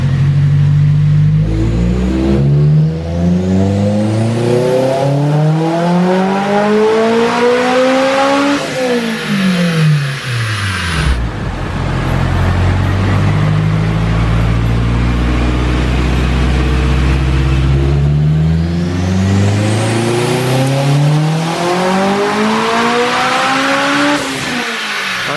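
A turbocharged AWD car engine on a dyno with boost turned up climbs steadily through the revs at full throttle, drops off, then winds up again in a second long pull, loud and close.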